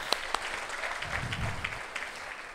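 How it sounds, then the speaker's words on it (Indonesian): An audience at an Atomy Indonesia marketing presentation applauds with a dense, fairly faint wash of many hands clapping, steady across the moment, heard from a distance in the room. "Tepuk tangan ya buat Atomy."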